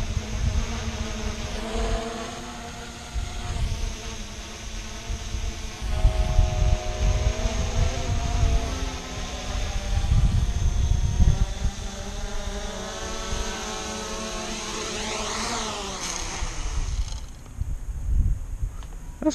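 An MJX Bugs 2 quadcopter drone buzzes loudly and close, its rotor whine wavering and shifting in pitch as it descends to land, then cutting off near the end.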